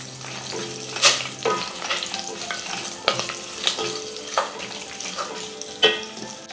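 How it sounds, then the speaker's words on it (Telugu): Chopped green chillies sizzle steadily in oil in a pan for cumin rice, with a few sharp bursts of spattering and stirring clatter, close and moderately loud, no voices. "ఇప్పుడు 2-3 పచ్చిమిర్చి ముక్కలు చేసుకొని వేసుకోవాలి"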